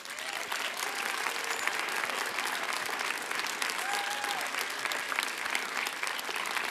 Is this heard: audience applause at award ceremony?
yes